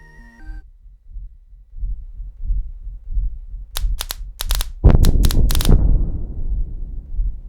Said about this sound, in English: You hear that heartbeat sound?